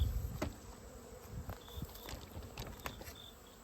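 Honey bees fly around beehives in late summer, a faint, thin buzzing with individual bees passing close to the microphone in brief swells over a quiet outdoor background.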